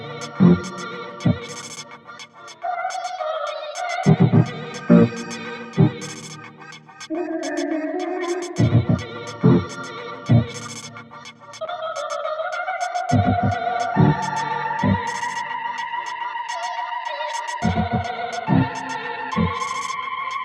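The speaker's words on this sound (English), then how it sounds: "all of those vocal chops from the main track and the vocal strip track of the cantata sound like this" Chopped vocal snippets cut from a Bach cantata, both the main track and an isolated vocal strip, form sustained pitched phrases over regular thumping beats, steady and fairly loud with no talking.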